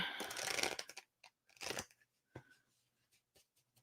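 Round tarot cards being shuffled by hand, giving a long papery riffle followed by a second burst and a few short soft taps and slides, close and quiet with no talking.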